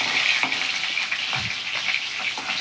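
Pieces of katla fish frying in hot oil, a steady close crackling sizzle with a few soft clinks from turning the fish, no talk.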